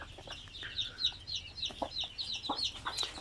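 Young, recently hatched Basilan chicks cluck and peep inside a coop, a steady, close flurry of short chirping calls overlapping one another with no talking.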